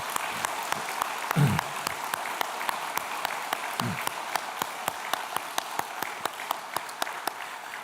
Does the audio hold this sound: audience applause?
yes